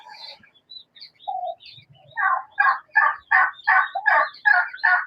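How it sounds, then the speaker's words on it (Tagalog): Several turkeys call outside in a farmyard, a scattered few calls at first, then a steady run of loud, close, rhythmic gobbling bursts about three per second with no talking. "Dami ng pabo sa labas oh."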